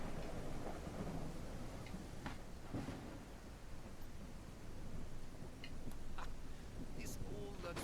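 Rain and thunder in a horse video game, a steady wash of rainfall with low rumbles rolling through, fairly faint and continuous with a few brief sharper sounds over it.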